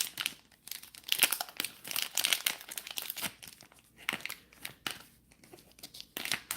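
Glossy foil wrappers of Bakugan Battle Planet booster packs crinkle and tear open in repeated close, sharp bursts, with no talking over them.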